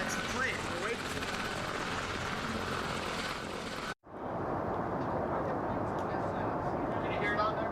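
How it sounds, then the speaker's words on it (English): An aircraft flies overhead near the Pentagon in Washington, D.C., on September 11, 2001, a steady broadband engine roar that briefly cuts out and then resumes, with voices mixed in. "That's the plane."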